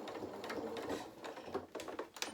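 A home sewing machine runs a few close, quiet stitches, then reverses, with soft rapid needle clatter that breaks briefly between passes.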